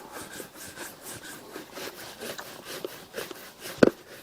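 A cloth or brush buffing a leather shoe during a shoe shine, a steady repeated rubbing swish at close range, ending in a sharp brief snap near the end.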